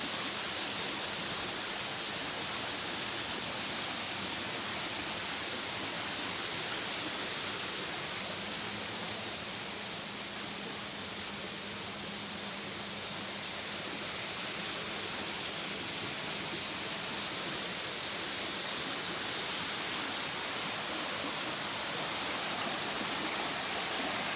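Continuous rushing water flows steadily for the whole stretch, a broad even roar like a stream or small waterfall, with no talking.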